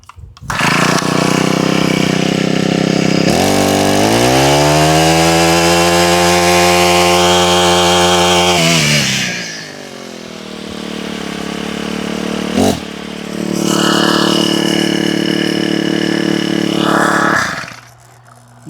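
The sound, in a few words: Husqvarna 224L string trimmer engine starting and running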